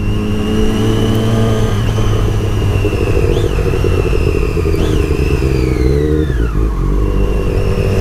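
A Triumph Daytona motorcycle engine runs loud and close, its pitch rising and falling as it revs, with a continuous mechanical rumble underneath.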